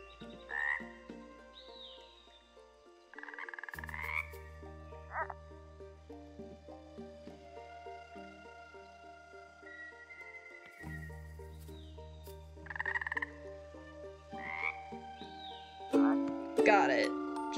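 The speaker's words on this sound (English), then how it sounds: "Because they're poison dart frogs." Poison dart frogs croak in the video game Tell Me Your Story during a maze puzzle. Short chirpy croaks recur over sustained game music tones, growing busier toward the end.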